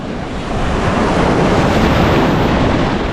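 Sea waves wash over a stony shore in a steady, loud roar, with wind buffeting the microphone throughout.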